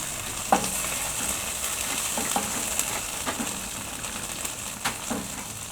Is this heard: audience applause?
no